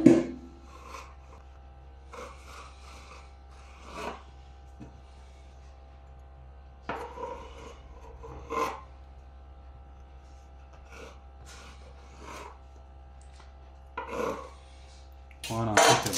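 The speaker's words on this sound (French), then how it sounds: "je vais faire des petites lamelles" A knife cuts thin strips for a beef Wellington, giving scattered soft scraping and chopping strokes on a board, close and quiet, spaced irregularly over a low steady hum.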